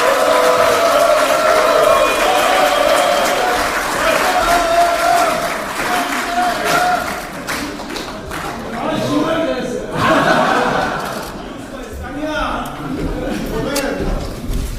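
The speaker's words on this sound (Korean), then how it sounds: "다시 한번 큰 박수 부탁드리겠습니다" Party members at a Gyeonggi Provincial Council policy meeting applauding as the party leader arrives, loud clapping with cheers and chatter that ebbs and flows, and voices talking over it.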